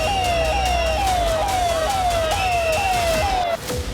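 An ambulance siren wails in a rapid repeating rise-and-fall pattern, loud and close, along a crowded road after a stampede, with road noise underneath and cutting off near the end.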